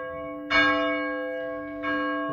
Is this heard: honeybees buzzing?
no